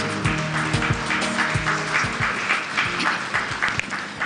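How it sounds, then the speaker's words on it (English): A ceremony audience at the Kuza Awards 2023 stands and applauds as the chief guest comes up, a dense, steady wash of many hands clapping close and loud, with a low tonal hum underneath. "Let us be upstanding and we clap as our chief guest comes and gives us his remarks"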